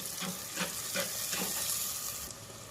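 Roughly chopped roasted tomato added to a pan of roasted onion, frying with a steady close hiss and soft crackle, with a few faint stirring scrapes.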